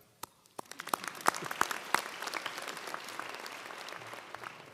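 Audience applause at a fall 2023 UC Merced graduate division commencement ceremony, beginning with a few scattered claps and quickly building into a dense, sustained ovation from a large crowd in a hall.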